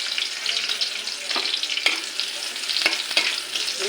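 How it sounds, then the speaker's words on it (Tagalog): Onion and garlic sauté in a pan with a bright, constant sizzle and hiss, broken by a few sharp stirring clacks. "Nagisa ako ng sibuyas guys."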